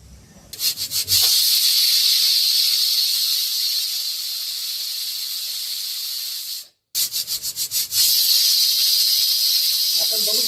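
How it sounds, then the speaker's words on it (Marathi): A loud, sustained high-pitched hiss from a pressure cooker whistle over high heat while cooking toor dal, opening with rapid puffs, breaking off briefly and then starting again. "कुकरचं झाकण लावून घेऊ आणि मोठ्या आचेवरती एक शिट्टी घ्यायची"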